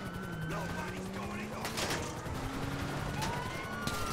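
A police siren wails and sweeps in pitch amid bursts of gunfire and general commotion during a prison break in GTA V, fairly loud and continuous.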